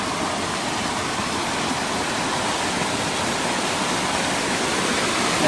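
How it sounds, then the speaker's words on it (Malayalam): Nerchapara waterfall in Malappuram, water rushing down in a dense, steady roar that fills the air, loud and close with no break and no voices. "ഇവിടെ നിന്ന് ഇങ്ങനെ വെള്ളം അങ്ങനെ ഒഴുകി വരുന്നു"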